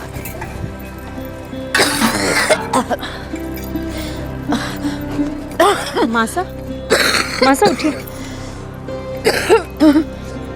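Repeated harsh coughing fits, loud and close, in several bursts, with a person speaking between them.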